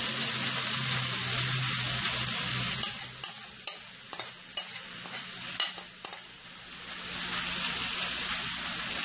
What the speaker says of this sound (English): I'm gonna add my rice.